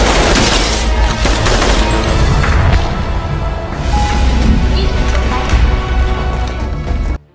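Sustained assault rifle gunfire in an action movie scene, a dense, loud run of overlapping shots and bursts that carries steadily for about seven seconds and then cuts off sharply.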